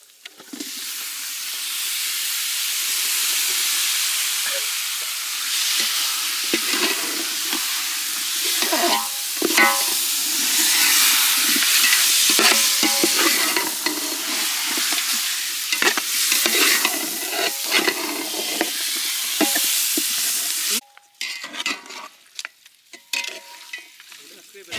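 Masala-marinated Guntur-style chicken frying in a village cooking pot, a loud continuous sizzle with steady scraping stir strokes throughout, briefly quieter near the end.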